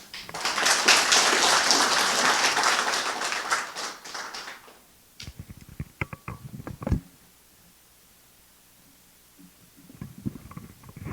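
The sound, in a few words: congregation applauding in church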